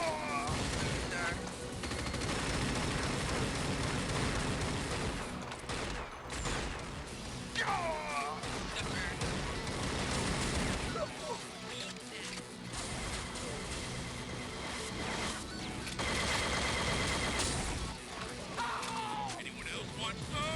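Gunfire in a video game running on a Pentium III PC: dense, near-continuous automatic bursts and clattering mechanical effects fill the whole stretch at steady loudness, with occasional brief dips.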